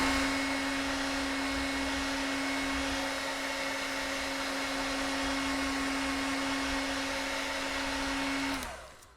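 A hair dryer blows steadily to dry a watercolor landscape painting, a loud, constant whirring hum with a fixed tone that runs for about nine seconds before being switched off abruptly.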